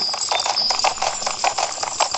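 Horse hooves clip-clopping in the Alexandra Ledermann riding video game, a quick, even rhythm of close, crisp hoofbeats repeating alone without pause.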